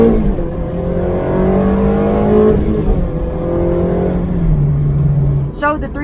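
A 2004 Ferrari 360 Challenge Stradale with a 3.6-litre V8 and F1 transmission revs hard, its loud, close engine note climbing and shifting steadily for several seconds.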